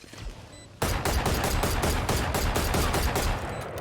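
Gunfire in a tactical shooter match right after a spike plant: a quieter lead-in, then a sudden dense volley of rapid shots that pounds on continuously before easing slightly at the end.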